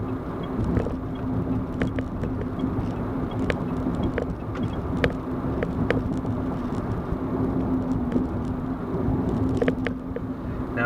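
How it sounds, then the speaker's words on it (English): A Mitsubishi i-MiEV electric car accelerating to about 60, a steady road rumble with a faint tonal hum and occasional small clicks heard from inside the cabin. "So we're accelerating, we're at about 60 there."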